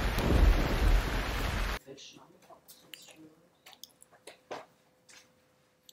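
A loud roar of heavy rain with deep thunder rumbling for about two seconds, then it cuts abruptly to near quiet with scattered faint clicks and taps.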